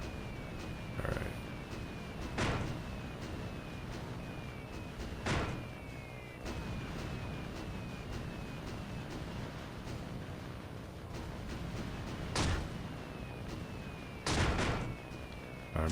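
Bombs dropped in the Xbox One game Aircraft Evolution burst in several loud, sharp blasts spaced a few seconds apart, with a steady engine drone and faint chirping effects running underneath.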